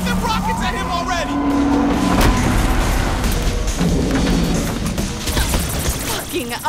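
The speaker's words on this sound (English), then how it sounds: "Shoot them rockets at him already!" Rockets fired at Paul, a giant enemy in the video game Saints Row IV, with loud, continuous explosive blasts and booming impacts under excited shouting voices throughout.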